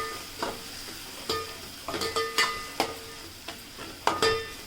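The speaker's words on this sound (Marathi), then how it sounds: "इथे आपण घेतलेली आहे पाव चमचा हळद सुद्धा आपण ह्यामध्ये मस्त मिक्स करून घेऊयात" A spoon stirs turmeric into an onion, garlic and tomato masala in a pan, a soft sizzle punctuated by about a dozen sharp scraping clicks at an uneven rhythm, quiet and close.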